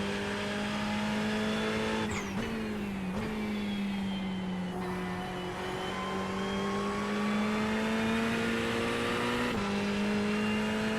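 A Ferrari GT3 race car in a video game roars at high revs, its engine pitch climbing and dropping with several quick gear shifts, tyres squealing faintly underneath, loud and continuous throughout.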